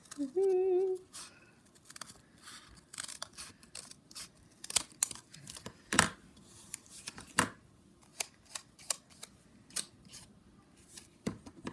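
Scissors trim overhanging paper while pocket letters are being made, giving a series of sharp close snips and rustles scattered irregularly across the stretch, with a brief tone at the start.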